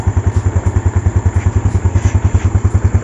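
Yamaha Jupiter Z1 motorcycle engine idling close by, a steady, throbbing four-stroke putter with a quick, even pulse and a light mechanical clatter, running alone with no talk.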